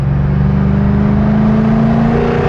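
Jaguar F-Type R sports car exhaust revving with its valves open, a loud close steady engine drone that swells slightly as revs climb.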